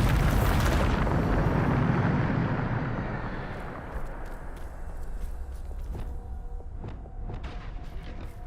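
A Bombarda explosion spell in Hogwarts Legacy goes off as one loud, broad blast at the start, then rumbles down into a fading roar with scattered small crackles and debris sounds.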